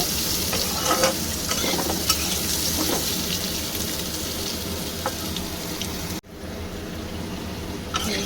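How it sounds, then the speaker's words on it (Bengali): Papaya pieces stirred and fried in a pan of oil, a loud continuous sizzle with scraping stir strokes throughout, briefly dropping out before resuming. "পেঁপেটাও আমি এর সঙ্গে একটু ভালো করে নেড়ে চেড়ে ভেজে নেব"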